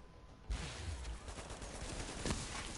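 An automated turret opens fire in The Division, a sudden burst of rapid gunfire that continues as a dense, steady rattle of shots at moderate loudness, with no voices.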